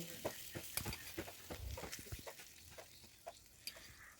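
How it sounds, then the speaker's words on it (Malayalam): Fish fries in a pan with a faint, steady sizzle and crackle, broken by scattered soft clicks and taps of turning the pieces, quiet and close. "ഇനി നമുക്ക് മീനൊന്ന് പൊരിച്ച് റെഡിയാക്കി എടുക്കാനുണ്ട്"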